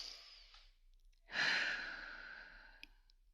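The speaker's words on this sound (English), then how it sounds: "put your hands over your heart and deep breath in" One long, deep inhaled breath drawn slowly through the airways, close and intimate against a quiet background, rising then trailing off.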